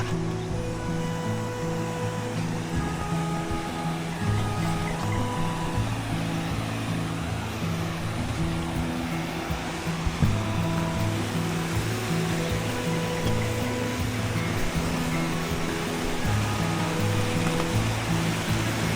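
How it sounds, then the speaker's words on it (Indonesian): A river at Kebun Jeruk on the Sembalun–Torean hiking trail of Mount Rinjani rushes steadily and loudly, a close, continuous wash of flowing water with no talk. "Nah ini teman-teman sungai di Kebun Jeruk."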